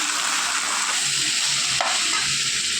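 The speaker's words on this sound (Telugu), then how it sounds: "ఇప్పుడు పొటాటో క్యారెట్ ముక్కలు వేసుకుందాము" Boiled potato and carrot pieces tipped into a pan of frying onions, a dense continuous sizzle filling the background with one short clatter as the pieces land, close and steady.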